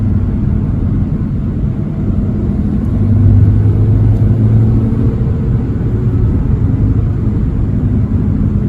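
Car engine pulling hard at full throttle in third gear, a loud, deep, steady rumble that rises slightly in pitch midway and holds, close by with no talk.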